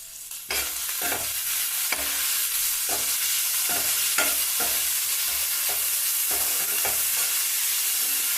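Onion and tomato frying in a pan for potato rice, a steady close sizzle with repeated spoon stirring and scraping strokes at a regular rhythm, no talking.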